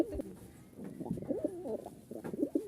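Giribaz pigeons from Rajshahi coo close by in soft, repeated throaty calls that rise and fall over a quiet background.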